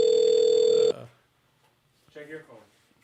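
A telephone rings loudly in one steady electronic tone for about a second and then cuts off, leaving quiet room sound with brief speech afterward.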